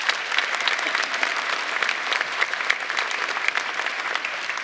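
A school prize-giving crowd applauds the prize-winning students, a dense, steady wash of clapping hands that holds even and full for several seconds with no break.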